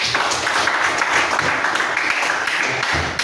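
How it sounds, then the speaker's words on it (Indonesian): Classroom group applauds together in a loud, close burst of clapping that runs continuously for a few seconds without talk. "Oke, jadi tepuk tangan untuk kita semua sekali."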